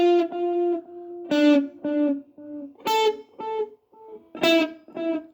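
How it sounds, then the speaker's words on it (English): Electric guitar notes with an echo effect ring out in short phrases for a study of 21 Guns, each plucked tone repeating and trailing off, played alone and clean with distinct gaps between groups. "I hope you can hear that echo"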